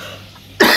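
A single sharp cough bursts out near the end after quiet room noise, close and fairly loud.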